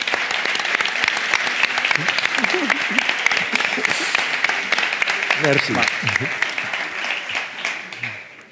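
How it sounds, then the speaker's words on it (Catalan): A live show audience applauds for Fernando Simón with steady, full clapping that lasts throughout. A few voices speak briefly over the noise. "Us puc demanar un aplaudiment pel Fernando Simón?"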